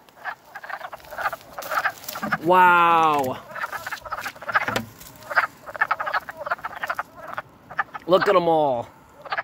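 Frogs croak loudly and nearby in a highway drainage area. Dense overlapping calls and two long rattling trills rise above the chorus, and a person speaks briefly among them.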